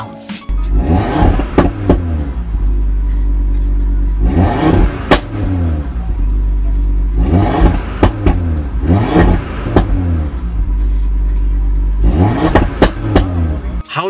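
An Audi TT RS sports car engine with carbon trim revs hard in repeated bursts, deep harmonic sweeps rising and falling with sharp exhaust pops and crackles between them, loud and close, with no one talking.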